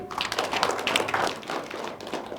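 An audience at a forum on village electrification claps, a scattered, moderate patter of hands that fades slightly toward the end.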